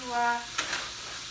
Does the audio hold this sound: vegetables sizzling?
yes